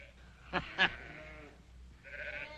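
Sheep bleat a couple of times, one short wavering cry followed later by another drawn-out bleat, fairly close against a quiet outdoor background.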